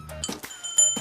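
A small hand bell rings with bright metallic dings, several quick strokes spread over a second, near and moderately loud amid other clatter.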